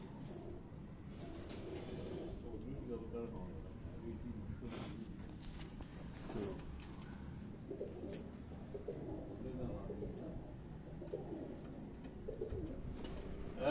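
Racing pigeons of an ustad's house breed in a Karachi loft, a busy wash of cooing and bird calls running throughout, with wing patter and background voices mixed in.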